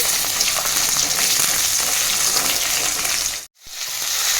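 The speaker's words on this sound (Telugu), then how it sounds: "దాంట్లోకి కొద్దిగా జీలకర్ర వేసుకుంటున్నాము. వేసేసుకొని కలుపుకోవాలి." Sesame seeds and cumin seeds fry and sizzle in hot oil in a pan while being stirred for a bottle gourd chutney, a steady loud crackle with a brief cut near the end.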